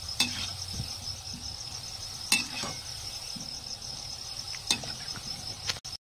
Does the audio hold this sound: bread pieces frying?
yes